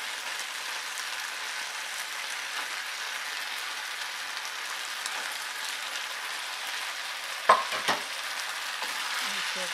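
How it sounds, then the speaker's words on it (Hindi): Continuous sizzling as fried chicken, sauce and vegetables are stirred together in a pan for restaurant-style chilli chicken, with a couple of sharp utensil knocks near the end. "इसे अच्छे से चला लें"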